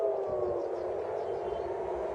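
Air raid sirens wail across Haifa, a steady sustained tone with a slowly gliding pitch, heard at a distance and fairly faint, with no talking.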